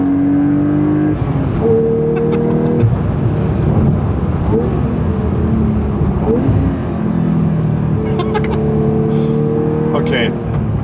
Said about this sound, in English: And the blow-off sounds also when you go off the gas.